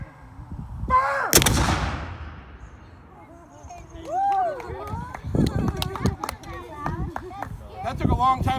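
A black powder cannon battery fires at a historical rendezvous: one loud, sharp blast booms early and decays, followed by shouted commands and voices talking at the outdoor gathering.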